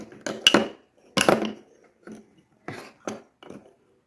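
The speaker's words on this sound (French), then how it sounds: "je vais rajouter 2 cuillères à café de poudre de riz." A teaspoon scooping rice powder into a bowl while mixing a night cream: a few close, sharp clinks and scrapes of metal on the bowl in short bursts separated by quiet pauses.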